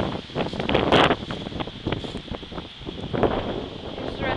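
Outdoor wind in woodland buffeting the microphone, a continuous rough rumble that swells in gusts, loudest around the first second and again later.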